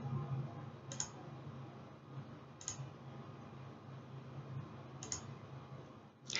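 Mouse clicks selecting presets in video-editing software, four sharp, close clicks spaced about two seconds apart over a steady low background hum.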